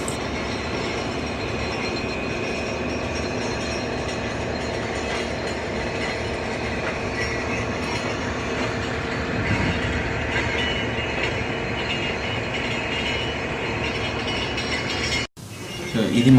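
A hydraulic piston mud pump on a drilling rig, running with a loud, continuous mechanical clatter and rumble that stops abruptly near the end.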